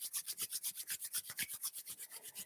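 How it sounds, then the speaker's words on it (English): Palms rubbing briskly together, a quiet, close, rhythmic swishing in about a dozen even strokes, each with a soft rasping texture. "Take your hands, your lovely hands, rub them, feel the warmth, feel the energy."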